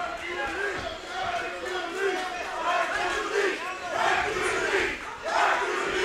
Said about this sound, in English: The crowd comes to life for Hercules in the final 12 seconds.